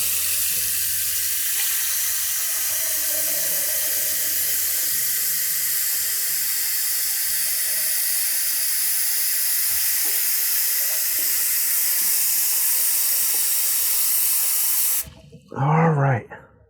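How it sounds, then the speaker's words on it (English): Tap water runs steadily into a pan holding eggs, a continuous broadband hiss lasting about fifteen seconds before the flow cuts off, followed by a brief burst of speech. "Now we want to fill it with water."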